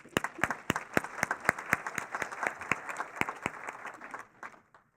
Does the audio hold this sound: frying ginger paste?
no